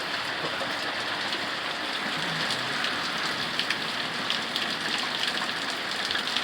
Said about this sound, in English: We got us a little thunderstorm going on.